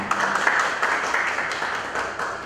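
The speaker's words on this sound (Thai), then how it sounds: "ทางสำนักวิทยาศาสตร์ขอเชิญปรบมือเพื่อขอบคุณท่ านวิทยากรอีกครั้งหนึ่ง" Audience at a university science seminar applauding to thank a guest speaker, a dense, sustained wash of many hands clapping at moderate distance.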